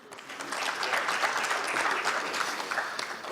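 A conference audience at an insurance and finance panel applauds a speaker being introduced, dense steady clapping that swells and holds for several seconds, filling a large hall.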